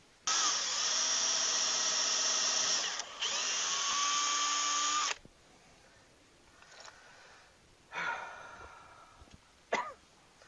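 A power drill whirs loudly in two long bursts with a brief stop between while drilling holes for overhead storage in a school bus RV conversion, then quieter handling noises and a few short knocks.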